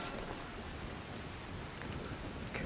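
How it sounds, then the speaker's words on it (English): Steady rain falls in the video game Dying Light, a dense, even hiss of drops that continues unbroken for the full stretch at a moderate level. "It's raining to boot."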